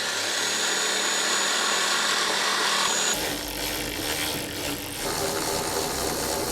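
A power tool whirs steadily as it drives bolts on a panel of a wrecked Mercedes AMG C63s, a loud continuous hum that shifts pitch partway through.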